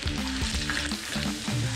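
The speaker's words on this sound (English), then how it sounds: "we're gonna add our onions and peppers and saute them until they're golden brown" Onions and peppers sauté in hot oil in a pan, giving a steady, close sizzle with faint stirring scrapes throughout.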